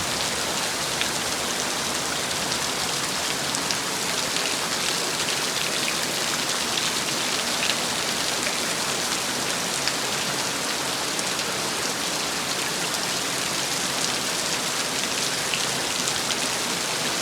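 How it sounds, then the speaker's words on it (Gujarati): Heavy torrential rain pours down in a dense, steady hiss and roar that never lets up, with no voices. "એટલે આવે છે ધોધમાર વરસાદ અત્યારે ચાલુ છે."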